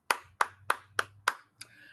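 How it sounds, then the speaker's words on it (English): Five sharp, evenly spaced hand claps ring out alone and close, followed by a softer sixth, as participants at a wellness and self-care training session applaud themselves. "I want you to give yourself a round of applause"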